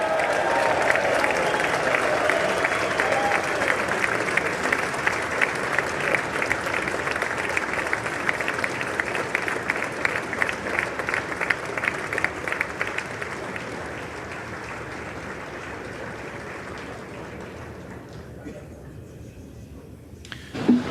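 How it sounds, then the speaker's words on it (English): Applause in the chamber of Congress for the First Lady before a presidential address, a broad sustained roar of clapping from a large crowd that gradually thins and fades toward the end. "Let's just go and hear the applause."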